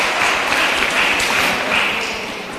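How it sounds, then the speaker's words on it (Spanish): At a 40th anniversary celebration, an audience bursts into sustained clapping, an even roar of many hands close by that keeps going without a break. "lá que nós temos um aplauso"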